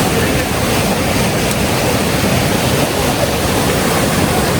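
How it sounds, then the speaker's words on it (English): The Dhauli Ganga river rushes with an extremely high flow during a Himalayan mountaineering expedition in Uttarakhand, a loud, unbroken roar of water filling the whole stretch. "the water flow is extremely high here"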